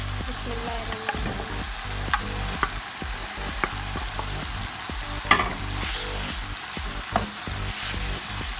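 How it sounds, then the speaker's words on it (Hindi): Chicken pieces hit hot frying onion-tomato masala in a karahi, giving a steady close sizzle and crackle with light stirring scrapes and occasional clinks throughout. "अब इसमें मैं चिकन ऐड कर रही हूँ"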